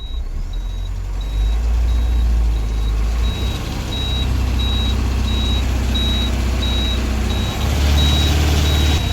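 Heavy lorries grind slowly uphill on the steep Karwar ghat road, a loud low engine drone with a repeating reversing-style beep, close and continuous with no talk.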